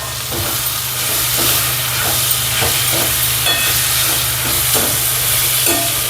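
Tomatoes and finely chopped fenugreek leaves sizzling and frying in a pan for spicy Maharashtrian zunka, a steady close hiss with repeated scraping stirs throughout.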